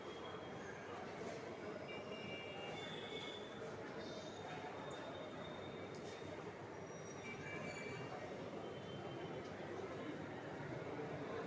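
A train rumbles at a railway station on a rainy day near Barasat. The rolling, wheel-driven noise is soft and continuous, with faint voices in the background.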